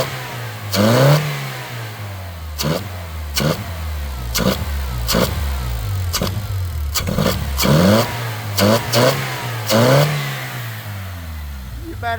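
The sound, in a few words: car engine revving after map sensor change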